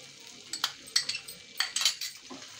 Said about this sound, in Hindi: इसे अच्छी तरह से मिक्स कर देती हूँ।